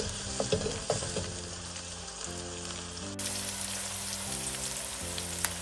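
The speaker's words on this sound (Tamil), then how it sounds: "இஞ்சி பூண்டு பேஸ்ட் எண்ணெயில் நல்லா வறுபட்டு வரட்டும்." Ginger garlic paste fries in oil in a pan with a continuous crackling sizzle and occasional pops and stirring scrapes, steady and fairly close, with no talking.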